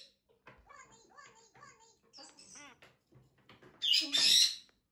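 Macaw and eclectus parrots at home by a tablet, giving short scattered squawks and chatter-like calls, then a loud, harsh burst of screeching near the end, close and otherwise in quiet surroundings.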